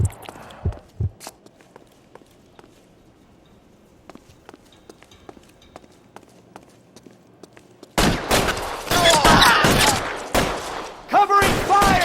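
A burst of rapid gunfire erupts in L.A. Noire, after a quiet stretch of scattered footsteps and small clicks, with loud overlapping shots dominating the final seconds and voices shouting amid the firing.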